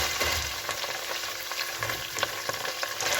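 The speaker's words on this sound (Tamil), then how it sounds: "வெங்காயத்தை நல்லா பொன்னிறம் பாரு மாதிரி வதக்கி எடுத்துக்கொள்ளும்" Onions sizzle and fry in hot oil with ginger-garlic paste for prawn biryani, a steady close crackle broken by repeated stirring scrapes, with no voices.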